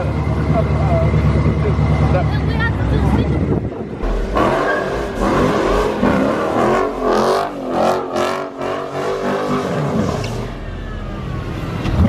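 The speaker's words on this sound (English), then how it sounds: "Rev it real quick. Rev it real quick. One time." At a car meet, a car engine revs loudly and close by in repeated surges, rising and falling, while people shout and talk over the noise.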